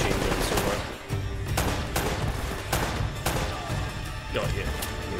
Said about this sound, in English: it's got to be some kind of heavy machine gun somewhere